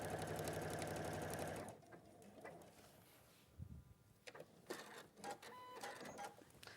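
A sewing machine runs steadily for a couple of seconds as it stitches quilt rows together, then stops, leaving quieter handling clicks and faint rustling.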